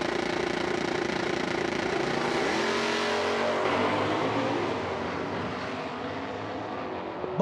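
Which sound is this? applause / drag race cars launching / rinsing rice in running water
drag race cars launching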